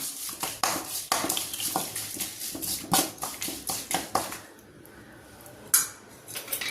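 Spices for a gooseberry and mango pickle are stirred in a pan, giving a run of sharp, close metallic scrapes and clinks in an uneven rhythm, then a pause and one last clink.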